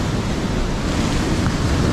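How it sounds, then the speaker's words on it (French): Powerful ocean waves crash and surge continuously near the shore, a loud, dense roar with wind buffeting the microphone throughout. "Regardez la puissance des vagues"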